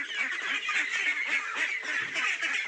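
A flock of about fifty farm ducks quacks and honks continuously in a busy, overlapping chorus at close range.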